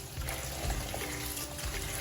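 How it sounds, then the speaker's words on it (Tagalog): Water runs and splashes into a bowl to soak sliced bitter gourd (ampalaya), a close, uneven trickle with low sloshing bumps and no voices. "ibababad natin siya sa water"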